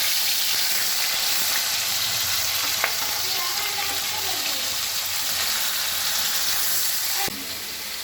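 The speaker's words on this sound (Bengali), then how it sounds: "চিংড়ি মাছ দিয়ে দিচ্ছি, তেল গরম হয়ে গেছে।" Prawns sizzle and fry in hot oil in a home kitchen with a steady, loud crackle. A brief clink sounds partway through, and the sizzle drops slightly near the end.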